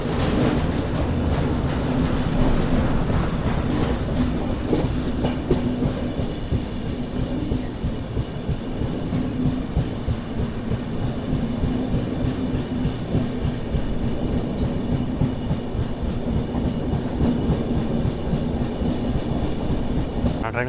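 Narayanadri SF Express from Tirupati to Lingampalli rolls along near Secunderabad with a loud, continuous rumbling roar and rapid rattling from the carriages, dense and steady throughout with no voices.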